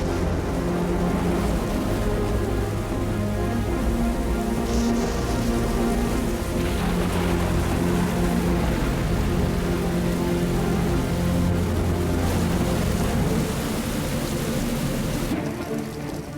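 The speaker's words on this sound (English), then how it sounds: "Rain clouds build. Desert storms, this time in Africa, can be hard-hitting and intimidating." Steady, dense rain pours down in a storm over an African desert, a continuous loud broadband wash with low rumbling underneath and no voices.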